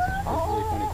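Farmyard chickens with some brightly colored birds give a loud, close run of clucks and warbling calls lasting about a second, with no talk over them.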